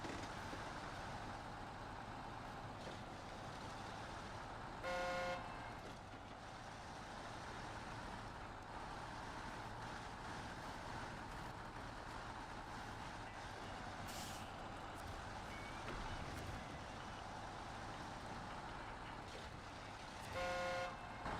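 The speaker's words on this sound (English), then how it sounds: "Honk honk, wake up." Truck horn in the snowy off-road driving game Snowrunner, two short harmonic honks around five seconds apart over a steady engine rumble and game ambience, no talking.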